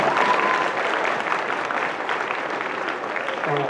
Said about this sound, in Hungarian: Hát egy tapsot szeretnék kérni Krisznek először is